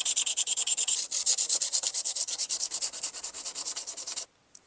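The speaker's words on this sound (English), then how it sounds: "So all I need to do is sand off the rail tops." Steady back-and-forth sanding strokes scrub black paint off the tops of HO scale model railroad track rails, a close, rhythmic scratchy rasp of about four strokes per second that runs alone before stopping abruptly.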